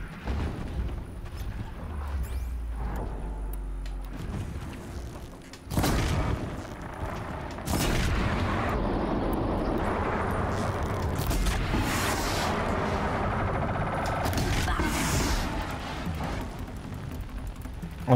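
Explosions in the Horizon Zero Dawn video game, with a sudden loud blast after a quieter stretch, followed by sustained rumbling and several bright bursts of crackling debris near the end.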